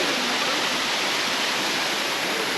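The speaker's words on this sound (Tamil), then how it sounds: "தண்ணி அருமையாக வந்து கொண்டிருக்கிறது." Manneera waterfall at Konni in Kerala pours steadily, a dense, even rush of falling water heard close and fairly loud, alone without voices.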